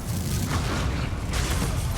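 A Stupefy spell effect from Hogwarts Legacy during a duel: a loud, roaring, booming blast that fills the full two seconds without pause, resembling a sustained explosion with no voices.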